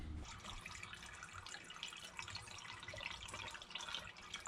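Water is poured from a container into the cooling system of a turbocharged BMW M52 engine swapped into an E30, with the car jacked up high; a steady splashing, gurgling flow runs close by and continuously, with no talking.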